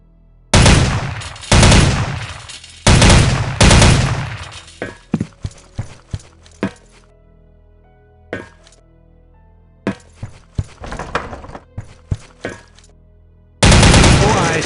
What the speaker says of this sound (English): the OICW has single-shot, burst fire, and full auto firing modes. Try them out on the target in stall number 4